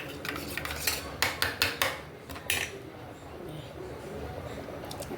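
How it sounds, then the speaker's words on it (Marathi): Yogurt with fresh coriander is whisked with a spoon in a bowl, giving a quick run of light metallic clinks and taps over a soft room background. "हे दोन ते तीन चमचे आपली दही आहे ते फेटून टाकते"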